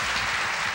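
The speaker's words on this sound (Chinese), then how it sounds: "来，我们掌声也给苏一清鼓励一下" Studio audience applauding a runner-up on a Taiwanese TV quiz game show: a short, steady burst of dense clapping with no voices over it.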